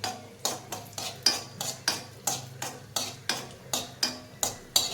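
Raisins are roasted in a pan for shevaya kheer, with a spoon or spatula scraping and tapping against the pan in a steady rhythm of about three strokes per second, close and distinct, with no talking.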